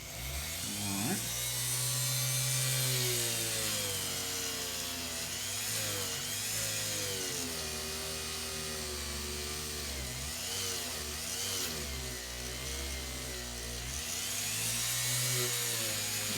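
A rotary tool spins at low speed as it polishes the feed ramp of a 1911 pistol barrel, making a steady whine that wavers in pitch as the tool is pressed and eased, close and continuous.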